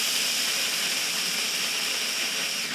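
A blender grinds sunflower kernels, fennel seeds and birdseye chillies, making a steady, loud high whirring hiss that holds constant throughout at close range with no voices.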